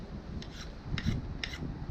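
Steel blade rasping across a sharpening stone to touch up its edge, three distinct scraping strokes at a steady rhythm, close and moderately loud with no talking.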